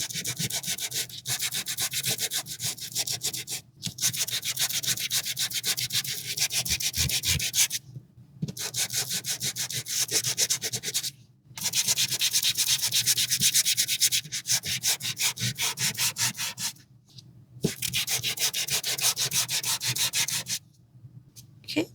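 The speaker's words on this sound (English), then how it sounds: "I'm just sanding them in a way where it looks like it's cross-hatched" Sandpaper rubbed over paper images to give them a cross-hatched, frosty look, rapid rhythmic back-and-forth scratching strokes, close and fairly loud, in long runs broken by short pauses, no voices.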